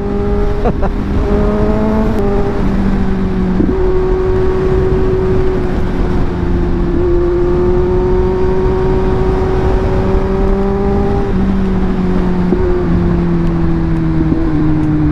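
A Kawasaki Z900 SE motorcycle engine runs steadily up close, a loud continuous hum with small shifts in pitch as it idles and revs gently, with no voices.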